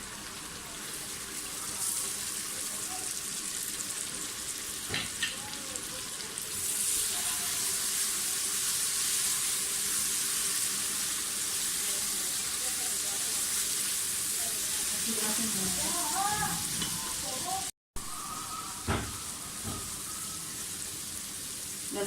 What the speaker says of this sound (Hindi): लहसुन अदरक वगैरह और प्याज सारा ही हमारा अच्छी तरह से भून गया।